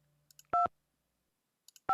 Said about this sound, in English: I'm gonna try it without the 1 and see what happens.